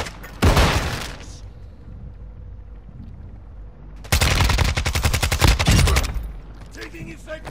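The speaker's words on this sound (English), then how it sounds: "Taking effective fire!" Gunfire in Call of Duty: a short loud burst, a pause of quieter rumbling ambience, then a long rapid automatic volley rattling close by before tapering off, with faint wind-like noise between shots.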